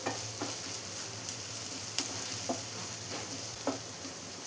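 Okra and potato fry with turmeric being stirred in a pan: a constant sizzle with a few distinct spatula scrapes and taps against the metal, close and alone.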